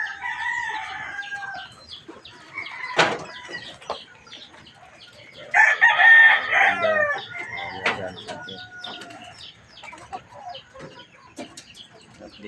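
A rooster crows loudly mid-way while hens cluck and chatter around it in a coop, with scattered bird calls and a few sharp knocks.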